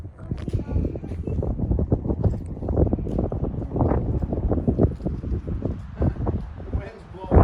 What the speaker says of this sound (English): The wind's blowing. Well, and the tarp's like flapping over here